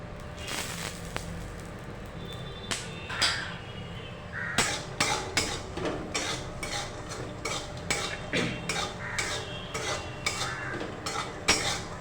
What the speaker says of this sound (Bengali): এবার বাদামগুলো একটু নাড়াচাড়া করে আমরা তুলে নেব